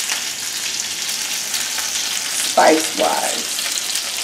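Seasoned salmon fries in a pan with a loud, steady sizzle that runs throughout, while a voice speaks briefly near the end.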